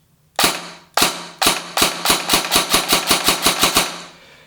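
Krytac Kriss Vector airsoft replica firing, starting with a few spaced shots and then speeding into a quick run of about a dozen rapid semi-automatic pops, loud and close, with no voices.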